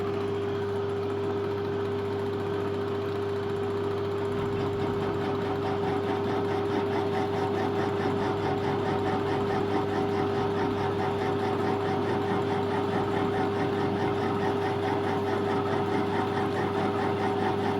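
A metal lathe takes a cut with the power feed engaged, giving a steady, even machine hum with a constant whine and faint cutting chatter running unchanged for the whole stretch, close by and with no talk.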